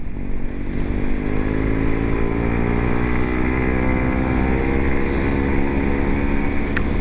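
Kawasaki Z125 motorcycle riding a short loop, its small single-cylinder engine humming steadily and close with even harmonic drone, wind rush over the top, no voices throughout.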